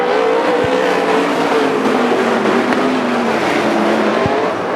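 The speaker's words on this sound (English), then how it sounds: "Good restart for Tyler Thompson, creating a little bit of a gap between himself and second place." Sprint cars roar around Willamette Speedway, a dense, loud, continuous engine howl from a pack racing under green after a restart, with a brief tire scrub.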